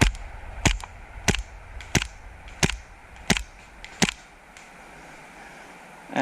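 Action Army AAP-01 airsoft pistol firing 0.25 gram BBs downrange outdoors, six sharp single shots spaced about two thirds of a second apart, then quiet.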